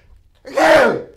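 A single loud, close sneeze: a sharp intake followed by a forceful burst that fades within half a second.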